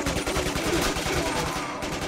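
Dense, continuous gunfire in the video game Quantum of Solace, loud and close with rapid overlapping shots forming a steady barrage throughout.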